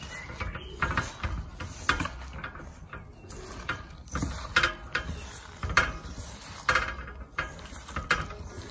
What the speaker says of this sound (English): And now the mixer.